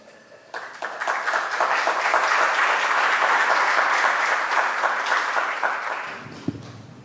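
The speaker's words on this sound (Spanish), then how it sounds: "Recibimos con un fuerte aplauso a la arquitecta doña Sofía Montero." An audience breaks into strong applause to welcome architect Sofía Montero at a PechaKucha talk, the clapping swelling quickly, holding steady and dense for several seconds, then tapering off.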